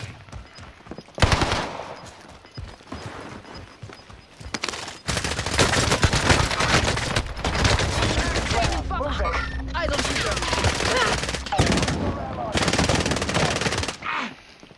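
Bursts of small-caliber automatic gunfire in a video game battle, loud rapid rattling volleys separated by brief pauses, with a voice faintly under the shooting.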